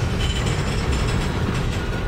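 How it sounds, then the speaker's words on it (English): A Norfolk Southern mixed manifest freight train passes through the north end of Binghamton Terminal, producing a dense, loud, continuous rumble with steady clanking and grinding of rolling cars. "Oh, that's a trash train, all right"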